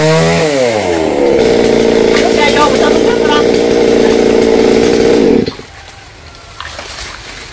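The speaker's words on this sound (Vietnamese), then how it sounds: "tắt máy cưa đó" A large chainsaw revs up and cuts steadily into a big rain tree for about five seconds, loud and close, then shuts off, leaving quiet outdoor background.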